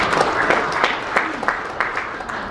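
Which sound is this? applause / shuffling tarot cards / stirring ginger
applause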